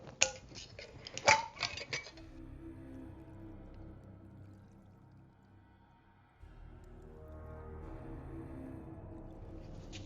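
Pumpkin pie bath salts poured and scooped into jars: a short flurry of sharp clinks and granular rattles at the start, then quiet shifting and a low handling rumble, with no talk.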